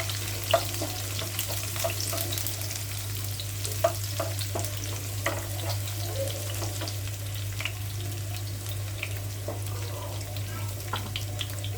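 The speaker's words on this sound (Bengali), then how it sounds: "এখন আগে থেকে কেটে রাখা রসুন আর পেঁয়াজ কুচি দিয়ে দিলাম।" Chopped garlic and onion frying in oil for a drumstick dal, a steady close sizzle with scattered crackles and occasional utensil taps, plus a constant low hum running underneath throughout.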